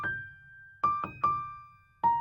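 A simple piano melody with no effects, produced in FL Studio, plays a handful of dry single notes with gaps between them, struck clearly and decaying quickly, heard alone.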